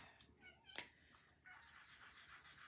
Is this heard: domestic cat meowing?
yes